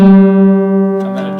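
Two guitar notes ring together while the guitar is being tuned, a sustained tone loud and close, fading slightly before a brief scrape of handling near the end.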